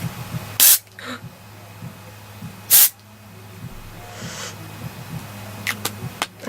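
Two short, loud hissing bursts of Oribe Gold Lust dry shampoo spray from an aerosol can, a couple of seconds apart, close up, followed by faint rustling and a few small clicks.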